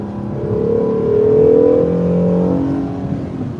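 A Chevrolet Camaro engine drones on the road ahead of the car being driven, heard from inside as a steady, rising and falling mid-pitched rumble that swells then eases.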